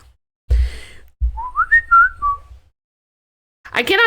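Someone whistles an imitation of a phone notification chime, a short run of quick rising and falling tones that is clear and close, set between bursts of handling noise on the microphone and a breath at the end.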